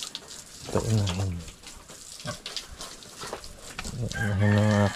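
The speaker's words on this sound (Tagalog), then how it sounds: "Ito inahin." A hen in a rural village in the mountains of Cebu gives a few short bursts of clucking and calls, near and fairly loud, with water running in the background.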